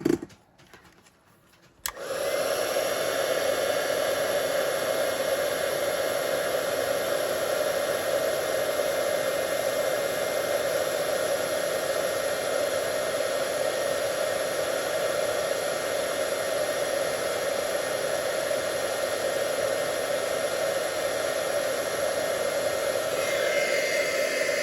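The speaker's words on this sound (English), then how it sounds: "then I'm going to heat emboss" A heat tool used for heat embossing on a card starts up after a short quiet moment and then blows a loud, constant airy roar close by for the rest of the time.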